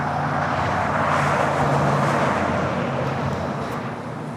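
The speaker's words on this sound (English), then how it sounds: "777-300ER heading down for a takeoff on the 25 right as well." A Boeing 777-300ER rolling toward takeoff on runway 25 right at LAX, heard as a loud, steady broadband jet roar that slowly fades slightly over a few seconds, with no voices.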